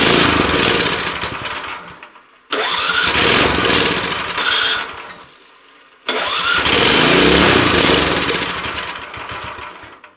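Loud small engine of a Wheel Horse Lawn Ranger lawn tractor revving high, surging and dropping in bursts with brief cutoffs between roaring runs, close by.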